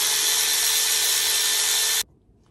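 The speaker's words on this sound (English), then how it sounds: "Let's get the rest of these head bolts out." Power tool spinning out outboard motor head bolts on an Evinrude Ficht engine in a shop: a loud, steady high-pitched whine runs for about two seconds, then cuts off abruptly into near silence.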